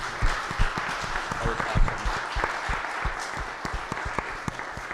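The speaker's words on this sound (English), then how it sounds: "how about a round of applause for all the panelists?" Applause from a conference audience for a panel of speakers, a moderate crowd clapping steadily with scattered sharper claps, fairly near, with some murmuring mixed in.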